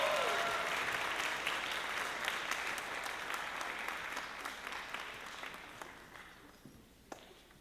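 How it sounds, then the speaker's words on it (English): Sustained clapping from a high school band concert audience fills the hall, dense and steady, then gradually thins and fades to a few scattered claps near the end. "give Rahaf another round of applause."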